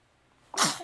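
A single sharp human sneeze bursting out loud and close after a near-silent moment, brief and breathy, with no talking during it.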